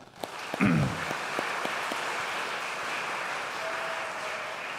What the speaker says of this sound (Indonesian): Sekali lagi kita berikan aplaus untuk mereka